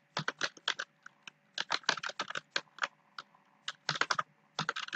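Rapid clattering keystrokes on a computer keyboard come in uneven bursts with short pauses, close and clear, with no talking.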